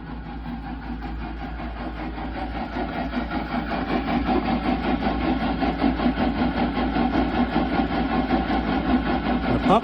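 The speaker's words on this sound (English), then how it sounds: "Pump is on." Rule 3700 bilge pump newly installed on a boat, switched on and running. A steady, close mechanical hum with a throbbing rhythm holds constant throughout, slowly building in loudness.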